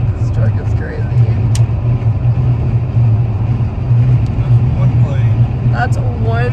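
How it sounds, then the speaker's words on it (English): A truck hauling a single huge wind turbine blade rumbles steadily nearby with a low, constant engine drone and road noise, heard from inside a moving vehicle while people talk over it. "This is a truck. Oh my god, this truck is crazy."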